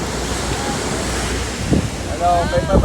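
Strong ocean surf rolling and breaking with gusty wind buffeting the microphone, a steady wash of noise with a heavier surge near the end; faint voices call out over it.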